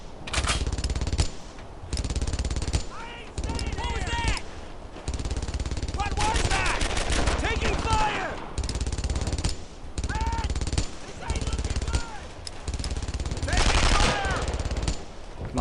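Bursts of machine gun fire in the World War II shooter Brothers in Arms: Earned in Blood, during a tank destroyer escort through St Sauveur: loud, rapid automatic rattles repeat in clusters, with voices in the gaps.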